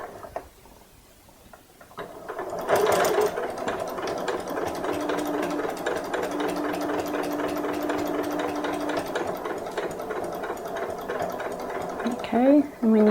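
A sewing machine stitches a gingerbread man softie with a fast, steady mechanical whir and rapid ticking of the needle, running several seconds before stopping, while a person talks over it.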